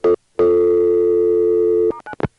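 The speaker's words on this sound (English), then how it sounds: "let me see if I can get another dial tone" Telephone dial tone on a 1A ESS Centrex line: a loud, steady sustained tone of about one and a half seconds, bracketed by short clicks and brief tone blips.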